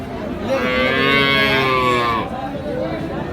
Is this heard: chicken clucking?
no